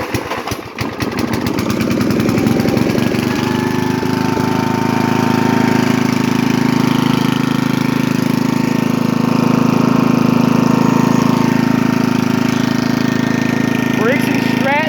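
1983 Briggs & Stratton 8hp Sno-Gard winter engine cranked with a few rapid pulls that catch into a steady, smooth, loud idle close by and running on alone.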